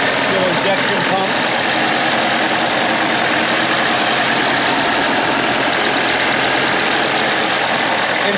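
A 1979 Mercedes-Benz 300SD W116 with 50k miles idles steadily, its diesel engine giving a constant, loud, even rumble with light knocking throughout.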